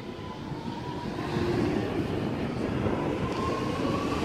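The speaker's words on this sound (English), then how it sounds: "the Chatswood service is now departing platform number 3" A Sydney Metro train pulling out of the platform at Tallawong station, a steady rumbling roar with a faint electric whine that swells slightly as it departs, heard close and without talk.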